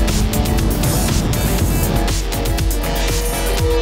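Supernaked motorcycle pulling a wheelie during a 2016 group test of the MT-10, S1000R, 1290 Super Duke R and Speed Triple, its engine roaring loud and steady throughout with a rough, revving drone and wind noise.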